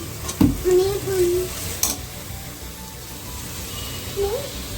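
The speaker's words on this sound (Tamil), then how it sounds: "இப்போ நம்ம புதினா சேர்த்துக்கிறோம்" Mint leaves stirred into onions frying in oil and ghee for mutton biryani, a soft steady sizzle with a few spoon scrapes and clinks against the pot.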